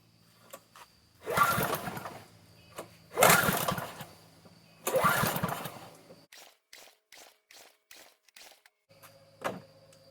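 An old junkpile generator engine cranked with the choke on, giving three long, loud bursts of mechanical churning that fail to catch, then a string of short clicks and a brief hum.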